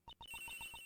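Phone ringing in the video game Ace Attorney Investigations 2, a quick series of about six bright electronic chirps, close and clear.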